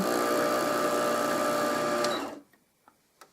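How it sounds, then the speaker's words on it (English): A Brother INNOV-is 20 sewing machine winds a bobbin with a steady, close mechanical whir that cuts off abruptly as the winding stops, followed by a few faint clicks in near silence. "When the bobbin is filled, this mechanism stops it from working and you can press stop on the machine."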